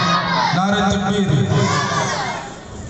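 A crowd at a ghazal event roaring back a takbir call, a loud, massed chant of many voices swelling and holding for a few seconds before fading.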